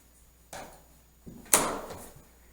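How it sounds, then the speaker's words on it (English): A door in a room with glue-down commercial carpet closes. A faint rustle and a soft knock come first, then one sharp latching thud rings out briefly. The sound is nearby and has no talk over it. "I'm gonna go ahead and shut this door again."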